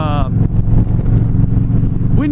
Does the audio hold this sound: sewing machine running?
no